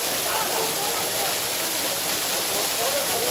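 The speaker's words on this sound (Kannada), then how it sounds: "ಒಂದೇ ಕಡೆ ನೀರು ಬೀಳ್ತಾ ಇರೋದ್ರಿಂದ ಬೋರ್ ಜಾಸ್ತಿ ಇದೆ" A steady, close roar of Abbi Falls crashing down in one spot near Sakleshpur, a constant rushing hiss with no pauses.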